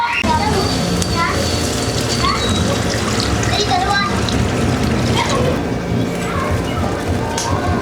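Water poured into a pan of sautéed chicken for a Filipino chicken dish: a continuous splashing and sloshing pour, loud and close, over steady background noise.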